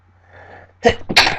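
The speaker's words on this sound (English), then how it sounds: "Oh, I need a sneeze." A faint breathy inhale builds, then a sharp, loud sneeze bursts out close to the microphone, followed quickly by a second burst.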